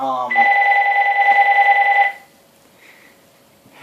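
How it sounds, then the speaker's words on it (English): A telephone rings in a room during a guitar amplifier demo, giving one sustained electronic trill of about two seconds before it stops, loud and close. "the phone's ringing."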